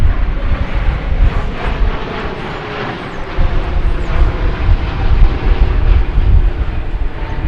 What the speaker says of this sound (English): it's American Flight 49 from Charles de Gaulle Airport in Paris. This one's a 787-9 Dreamliner.